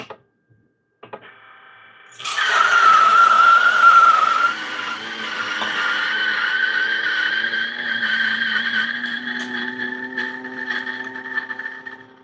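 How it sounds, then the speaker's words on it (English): Coffee grinder grinding 18 grams of beans at 500 RPM, a steady whirring hum that starts abruptly after a click, loudest at first then settling into a continuous drone until the end. "Now it's still grinding at 500 RPM, right?"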